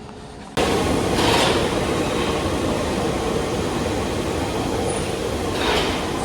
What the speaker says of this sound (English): the train pulled in